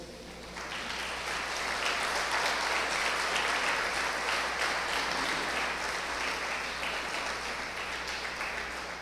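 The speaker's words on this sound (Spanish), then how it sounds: "¿Le dan un aplauso al Señor?" Church congregation breaking into sustained applause, a dense wash of many hands clapping that swells quickly and holds steady for several seconds, fairly distant and even.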